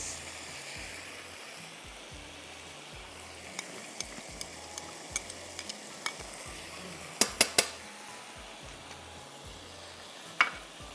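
Half a cup of onions frying in two to three tablespoons of pomace olive oil with two tablespoons of butter, a low continuous sizzle broken by light stirring clicks and a few sharper clinks of a utensil against the pan.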